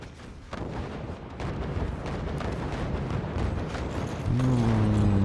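Incoming weapon fire in the Forts video game arrives as a dense rumble of booms and impacts, with a humming tone rising near the end.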